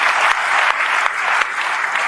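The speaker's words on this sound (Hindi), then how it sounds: "एक बार उनके सम्मान में तालियां बजा दें" Loud, dense applause from an audience at a Hindi humorous poetry recital, a continuous wash of many hands clapping that fills the whole moment.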